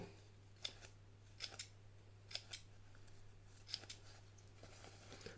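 Nextool Flagship Pro multitool shears snipping through a lightweight paper towel, a series of quiet, crisp cuts at an uneven rhythm over a steady low hum, close and faint.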